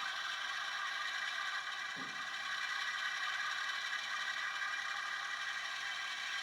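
A model train's DCC sound decoder plays its full-throttle engine effect as a steady, buzzy mechanical drone that holds at a constant level throughout, with no talking.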